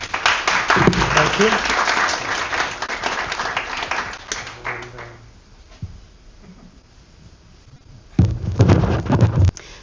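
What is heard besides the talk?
audience applause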